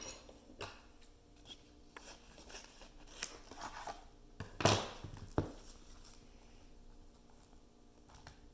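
Scissors cut through collage paper in a quiet room, a handful of faint, sparse snips with one sharper, louder cut near the middle.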